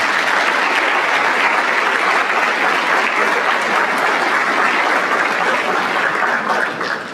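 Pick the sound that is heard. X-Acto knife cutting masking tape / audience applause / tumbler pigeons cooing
audience applause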